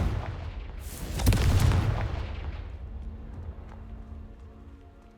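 A single Confringo fire spell blast in the Hogwarts Legacy video game: a loud booming burst that rolls off into a fading crackle and low rumble, with no one speaking.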